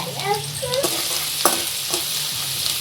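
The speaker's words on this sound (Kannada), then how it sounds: "ಎಣ್ಣೆ ಕಾದಿದೆ. ಬೆಳ್ಳುಳ್ಳಿ ಮತ್ತು ಹಸಿಮೆಣಸಿನ್ಕಾಯಿ ಎರಡನ್ನೂ ಹಾಕೋಣ." Garlic and green chillies frying in hot oil, a close steady sizzle broken by a few scraping stirs of a spoon in the pan, with no talk.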